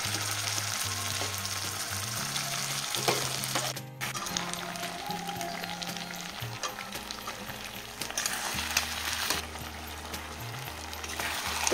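Boiled mutton with turmeric being sautéed in a pan for a Bengali home-style curry, a constant close sizzle broken by stirring scrapes and clinks, with a low hum underneath and no speech.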